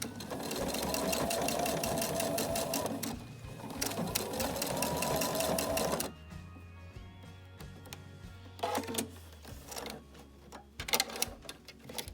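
A sewing machine stitches straight across a garment placket, its rapid, steady needle chatter running loud for about six seconds, then dropping to quieter, intermittent bursts of stitching with handling noises.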